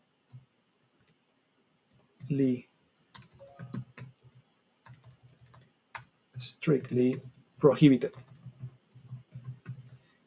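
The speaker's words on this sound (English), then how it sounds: "What's happening to my typing today?" Rapid clicking of computer keys in short bursts, interspersed with a person talking nearby.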